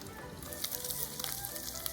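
Gyoza frying and steaming in a covered frying pan, a steady, dense sizzle with crackling pops, close and continuous with no talking.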